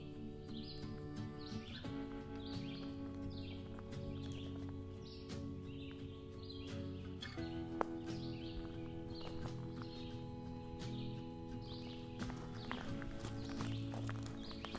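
Birds sing and chirp repeatedly at an RV park, a mix of short calls over a constant low hum, moderately distant and fairly quiet.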